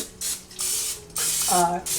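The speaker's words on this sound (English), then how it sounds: "I'm going to spray each one just lightly with a little bit of butter" Short bursts of butter-flavoured cooking spray hiss into silicone muffin tins in quick succession, three or four sprays close by with brief pauses between them.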